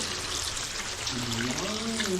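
Water pours steadily into a cooking pot while pancit is being made, a continuous close splashing rush lasting the whole moment, with a voice briefly speaking over the latter half.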